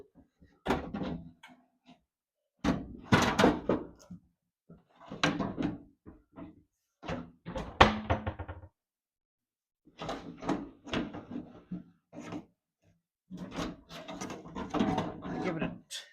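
Glass being worked out of a classic car door resting on a workbench, producing scattered knocks, scrapes and sliding thumps in short bursts separated by silence, close and fairly loud.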